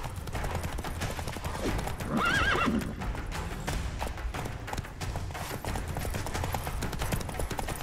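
Hooves clip-clop rapidly as a horse gallops in The Witcher 3, with a sharp neigh rising in the middle, all set against game music and ambient effects.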